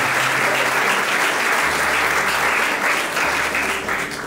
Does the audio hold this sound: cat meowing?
no